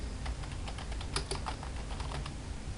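Someone types a message on a computer keyboard, giving a continuous run of quick, light key taps at close range over a steady background hiss.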